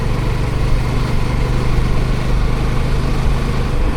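A motorcycle engine drones loud and constant while riding on a cold, misty winter morning, with heavy wind rush over it and no talk.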